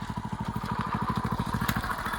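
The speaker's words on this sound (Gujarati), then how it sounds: "આપણો ભાઈબંધ પાછળ આવી રહ્યો છે બાઇક લઈને" A motorcycle engine chugs nearby in a fast, even thumping rhythm at a steady moderate level throughout.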